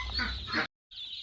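Duck chicks crowded together at a village poultry farm in Odisha while being packed for shipment, giving off a dense chirping that breaks off in a short silence before one sharper, high call resumes.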